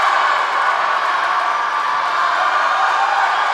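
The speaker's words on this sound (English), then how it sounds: "You can hear the volume, right? Everybody's cheering on the swimmers." Spectators at an indoor high school swim meet cheer on racing swimmers, a dense, steady roar of crowd noise echoing in the pool hall without a break.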